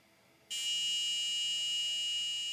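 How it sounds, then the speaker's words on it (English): A buzzer on an embedded microcontroller board switches on abruptly and holds a loud, steady high-pitched tone for about two seconds after a brief quiet moment. "And setting off the buzzer, which we will turn off."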